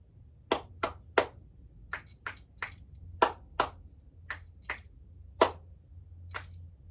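Sharp, isolated clap snaps during a relaxation fitness exercise, about a dozen crisp hand strikes at an irregular pace in a quiet room, close and distinct with silence between them.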